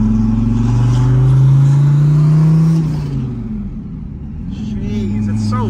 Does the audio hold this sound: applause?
no